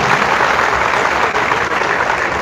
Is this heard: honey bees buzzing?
no